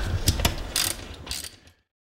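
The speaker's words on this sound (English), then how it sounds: "Let's remove the four bolts." Wrench loosening 9/16 bolts on a leaking Hayward Super Pump pool pump, giving a short series of close ratcheting clicks and metallic turns that stop abruptly.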